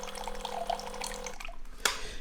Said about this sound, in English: with 2 taps on the top, you got water